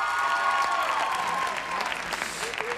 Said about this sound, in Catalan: Aplaudim la Paula Pinyol.